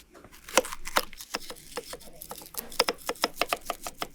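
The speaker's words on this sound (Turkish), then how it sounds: "Küp küp doğranmış bir kırmızı dolmalık biber ekleyin." Rapid, uneven knife strikes on a cutting board as a red bell pepper is diced, a crisp chopping rhythm close by with no voices.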